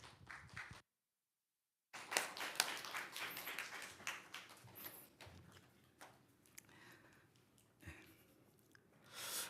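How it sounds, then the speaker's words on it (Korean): A church congregation applauds during a Sunday worship service, a dense stretch of clapping that follows a brief silence and carries on at moderate volume, with a few louder claps scattered through it. "나오실 때 큰 격려의 박수 해주세요."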